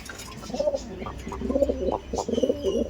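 Pigeons in a loft of breeding pairs coo in repeated low, throaty bursts, close and steady over a soft background hum.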